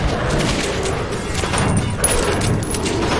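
Gunfire in the video game Metro 2033 played in VR, a dense continuous barrage of shots and booms filling the whole stretch at steady loud level.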